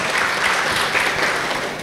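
An audience at a safe-motherhood gathering applauds midwives, a brief, dense burst of steady clapping under two seconds long.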